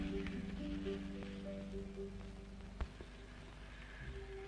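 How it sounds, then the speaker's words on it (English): Rain falling on leaves in an exotic outdoor setting, a steady soft hiss of drops with a few sharper patters, heard under a low hum that runs throughout. "Rain!"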